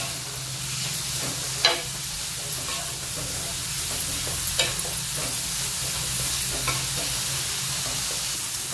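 Snake gourd seeds dry-roasting in a pan, stirred with a steady soft scraping and light crackle over a continuous faint hiss, with a few sharper clicks of the spoon against the pan.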